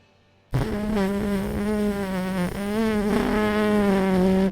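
A voice imitates a long, quiet, buzzing fart, a steady wavering drone that starts abruptly and carries on for several seconds.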